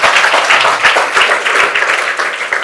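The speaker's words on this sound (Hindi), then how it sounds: "एक बार अपने लिए भी ताली बजाओ सब।" Audience of teenagers clapping together for themselves at a motivational talk, a steady, dense wash of many hands that stays loud and even for the whole stretch without letting up.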